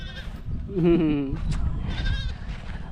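A goat gives one wavering, quavering bleat close by while people talk around it.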